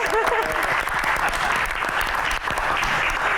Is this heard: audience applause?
yes